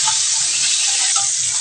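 Pointed gourd pieces fry in hot oil with a loud, steady broadband sizzle that holds unbroken throughout, with no voices.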